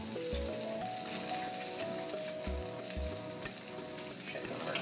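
Salmon and onions sizzle steadily in a pan over medium heat after searing, a continuous close frying hiss with occasional soft stirring scrapes, no talking.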